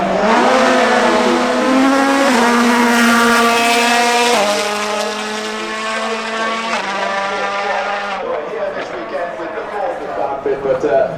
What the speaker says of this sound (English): that Liberty Walk, D2 wide body GTR, rocking a couple burnouts there